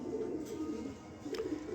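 Racing pigeons kept in a loft give soft, low cooing calls, quiet and near, in two short phrases.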